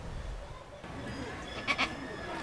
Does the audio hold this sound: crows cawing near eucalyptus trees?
no